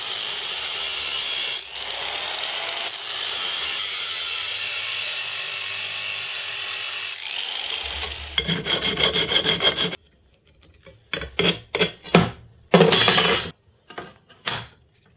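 Steady rasping strokes of a saw cutting steel flat bar, continuous for several seconds, then a run of short clanks and scrapes as pieces are handled.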